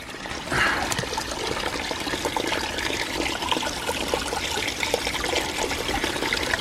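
Water trickling slowly out of a field drain tile main, a soft, continuous dribbling and splashing heard close by with no voices.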